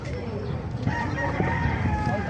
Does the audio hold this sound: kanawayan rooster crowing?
yes